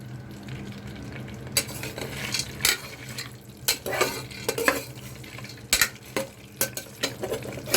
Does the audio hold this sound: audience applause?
no